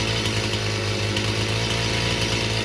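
Chainsaw engine running at high, steady revs while its carburetor screw is slowly turned during tuning, a loud continuous buzzing drone close by with no talk.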